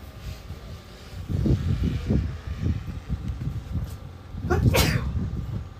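A race commentator in the booth at a UTV off-road race in Columbus, Montana gives one sharp sneeze close to the microphone. It cuts through a steady background roar of wind and distant engines, and low talk comes just before it.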